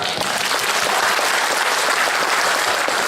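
An audience at a Biopori movement appreciation day ceremony applauds, a brisk, dense patter of clapping that stays steady and fairly loud for the full three seconds.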